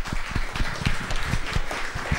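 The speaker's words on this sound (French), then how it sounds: "Vous applaudissez ma vie" A studio audience applauds throughout, a steady dense clatter of hands with no gaps, heard close and fairly loud over its short length.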